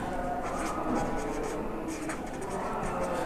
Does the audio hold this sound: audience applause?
no